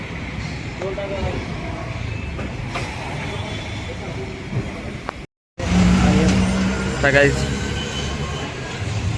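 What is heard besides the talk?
Royal Enfield motorcycle engine running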